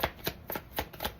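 Tarot cards riffle and slap in quick, rhythmic bursts, about five soft shuffling strokes in just over a second, close and fairly quiet.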